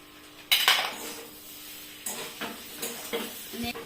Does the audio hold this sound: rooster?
no